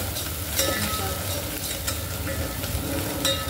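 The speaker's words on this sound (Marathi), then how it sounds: "तो मसाला जास्त छान परतला" Masala and moong dal frying for varan, a close crackling sizzle under brisk stirring with a few light scrapes of the spoon against the pan, no voices.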